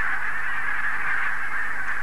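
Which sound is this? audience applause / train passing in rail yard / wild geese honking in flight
wild geese honking in flight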